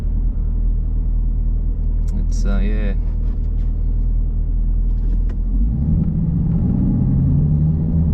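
A 2020 Chevrolet Camaro ZL1's engine rumbles low and steady while driving, swelling slightly deeper toward the end, with a person speaking briefly over it.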